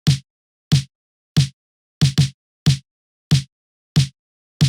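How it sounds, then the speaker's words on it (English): Snare hits from a simple FL Studio drum pattern for a new wave post-punk beat, eight sharp, evenly spaced cracks with one quick flam-like double, loud and dry with silence between. "We're gonna start with a snare pattern like this."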